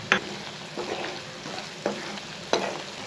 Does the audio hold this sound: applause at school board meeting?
no